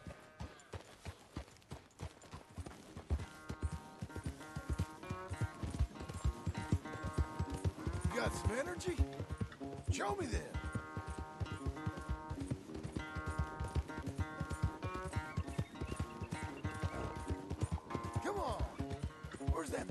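Horse hooves in Red Dead Redemption 2 beat a steady, rapid clip-clop as a rider works a spirited horse in a corral. The hoofbeats run under game music, and someone speaks in short calls over the galloping.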